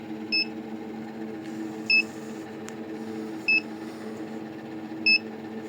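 Short, high electronic beeps from a Best 500 egg incubator heating up sound four times at roughly one-and-a-half-second intervals over a steady low hum.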